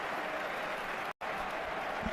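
Football stadium crowd at a Real Madrid versus Real Betis La Liga match applauds in a broad, steady wash of distant clapping and crowd noise, briefly cut off by a short gap midway.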